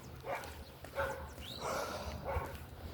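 Dogs bark and yip in short bursts at a distance, faint over steady outdoor background noise along a roadside walk, about four separate calls.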